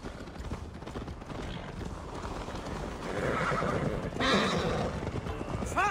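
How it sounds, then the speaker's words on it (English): A horse in Assassin's Creed Valhalla gallops with rapid clip-clop hoofbeats and lets out a loud, wavering neigh near the end, all close and prominent. "Your horse is slow, and her ride is drunk!"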